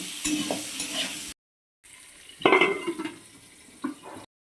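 Potatoes seasoned with salt and turmeric frying in oil while being stirred, a soft sizzle broken by short scraping stirs, with a brief gap of silence partway through.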